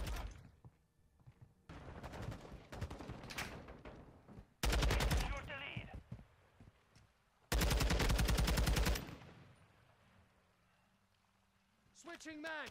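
SCAR rifle gunfire in Modern Warfare II gameplay, loud sustained bursts of automatic shots in two long volleys with smaller bursts between, alongside game sounds and voices.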